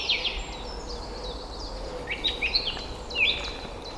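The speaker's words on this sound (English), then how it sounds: "Hear the birds?" Birds chirp and whistle outdoors in short bright calls, scattered and fairly distant over a soft ambient background.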